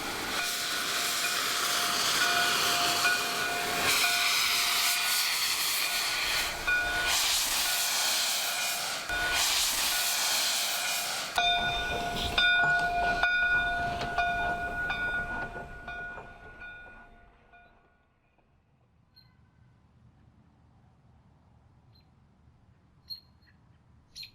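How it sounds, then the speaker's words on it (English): A steam locomotive hisses loudly and steadily as it runs past on a prairie line near Brandon, with rail clatter and whistle-like tones before the sound fades into near silence. "Of all of man's inventions, none seems so iconic, recognizable, and endearing as the majestic steam locomotive."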